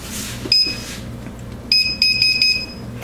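Kitchen oven timer being set while muffins bake, giving a single loud electronic beep followed after a pause by a quick run of four or five sharp beeps, close and clear over a low background hum.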